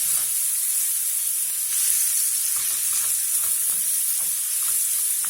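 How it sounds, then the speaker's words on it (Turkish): Onions frying in a pan of vegetable oil, a steady close sizzle and hiss running without a break, with faint stirring scrapes and no voices. "Evet, soğanları güzelce kavuralım."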